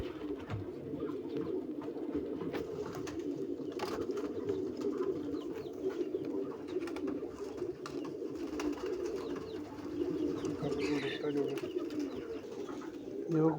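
Soft, repeated cooing of pigeons, a low murmuring warble that continues steadily throughout, with faint background noise.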